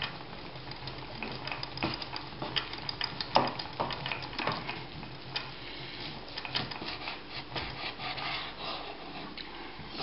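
A knife slices through stuffed roast meat on a board, steady soft rasping strokes with small scrapes, close and fairly quiet, no voices.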